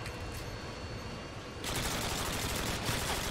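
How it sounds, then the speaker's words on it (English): Gunfire in a Modern Warfare 2 match, dense and continuous, with a sudden louder, brighter surge of shooting and explosive noise partway through. "He's shooting at my Harrier"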